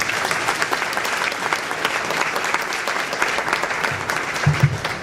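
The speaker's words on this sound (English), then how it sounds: "So please let's give them an applause." A crowd at a Hispanic chamber awards event applauds continuously, an even, dense clapping at moderate volume with a faint low thump near the end.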